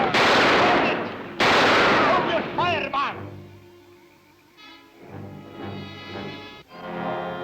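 Loud bursts of gunfire from a TV adventure series, two sharp volleys up front followed by quieter dramatic sounds and a fading tail.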